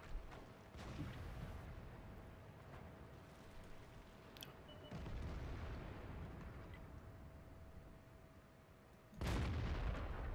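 Tank combat in a video game, with SP1C tank cannon fire: deep booming blasts and rumbling explosions at the start, near five seconds and a loud one near the end, under a constant low battle rumble.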